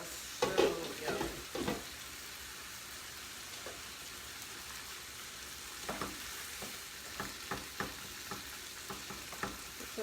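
Sausages brown in a hot skillet with a steady, close sizzle. A few loud utensil clatters come early, then scattered light taps and scrapes over the frying hiss.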